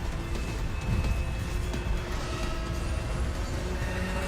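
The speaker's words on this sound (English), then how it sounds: "I can hear the train, but I can't get out of the way of it yet." A train rumbles nearby in the street-racing game Need for Speed: The Run, a loud continuous low roar with hissing and mechanical clatter, mixed with engine noise and steady throughout.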